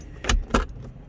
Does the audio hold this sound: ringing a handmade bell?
no